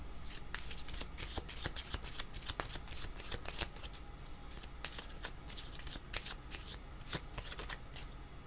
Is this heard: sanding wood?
no